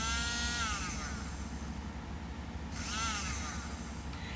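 A small electric milk frother whirs steadily at high speed, its pitch sweeping up as it starts and dipping briefly before spinning up again, close and continuous with no talk.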